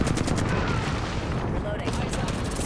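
Dense gunfire in Apex Legends, rapid overlapping shots crackling loudly throughout a chaotic firefight.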